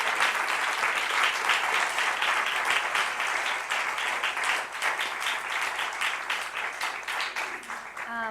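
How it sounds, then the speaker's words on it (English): An audience gives a sustained round of applause for the panellists at an evening panel discussion, steady, dense clapping throughout. "please give our panellists a round of applause and thank them for their time"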